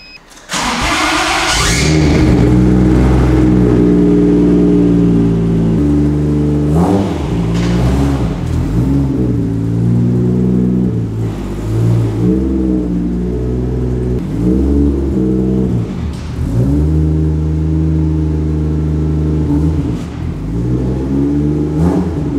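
A car being readied for a show starts up and revs repeatedly, loud and close, the engine rising and falling in pitch through a series of throttle blips with no speech.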